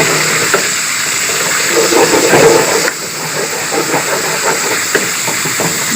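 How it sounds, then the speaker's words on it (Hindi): Boneless chicken with salt fries in a pan for a green handi dish, giving a loud, steady sizzling hiss that fills the whole stretch, with faint crackles and a small dip in level partway through. "इसको अच्छी तरह भूनेंगे।"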